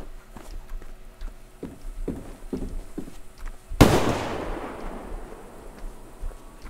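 A pistol fires once, loud and close, with a long echoing tail, in the online shooter game Survarium. Soft footstep-like taps come before the shot.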